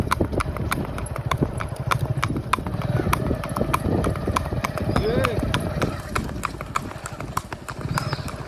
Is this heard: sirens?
no